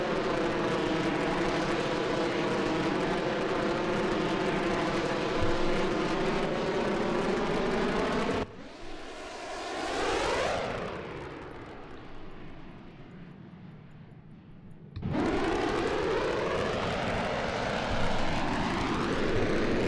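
An F-104 jet takes off in the flight sim Il-2 1946, a loud steady engine roar with whining tones that drops away sharply, then a fainter rising tone, before the full roar returns.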